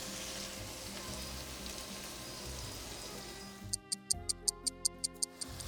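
Peppers and garlic sizzle steadily in a pan for shakshuka, a dense frying hiss that drops away near the end, replaced by a run of quick, regular ticking.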